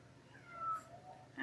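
A cat lets out a faint, drawn-out meow at close range in a quiet room, with a short sharper sound right at the end.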